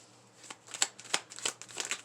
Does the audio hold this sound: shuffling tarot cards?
yes